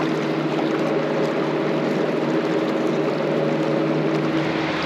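Vessel engine drone aboard a ferry crossing from Java to Bali, a steady loud rumble with rushing wind and water and no voices.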